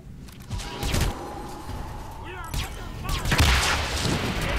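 Explosions and gunfire in the game Hitman: Absolution, a burst of shots and booms with a deep rumble, mixed with game sounds and a talking voice.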